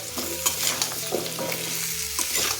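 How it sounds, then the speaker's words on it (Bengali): Pumpkin fries with ginger and green chilli in a hot pan, a close, continuous sizzle broken by repeated scraping stirs of a spatula. "কুমড়োটা খুব ভালো করে ভেজে দিতে হবে।"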